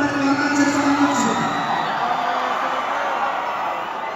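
A large audience at a palenque concert in Tijuana roars with cheering and shouting, loud and sustained, tapering slightly toward the end.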